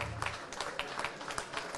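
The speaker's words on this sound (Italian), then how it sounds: "facciamo un applauso." Brief, fairly faint applause at an expo inauguration in Alta Val Trebbia as an award goes to the company Liguria Legnami, a scattered patter of clapping from a small crowd.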